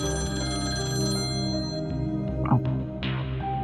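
A telephone rings with a repeated electronic trill, steady and fairly close, with a few brief knocks and movement sounds in an otherwise quiet room.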